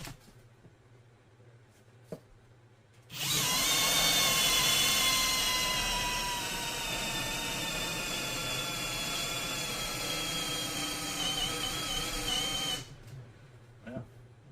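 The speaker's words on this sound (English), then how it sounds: "I overheat my drill. That's some tough stuff." A power drill runs continuously for about ten seconds, loud and close, with a steady high whine that dips slightly as it bites into a wall, then stops.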